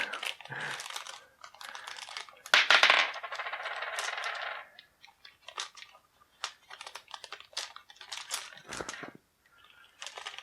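Plastic board game dice being pushed back into a small bag: close, clicky rattles and crinkling plastic in irregular bursts, busier at first and then thinning to scattered clicks.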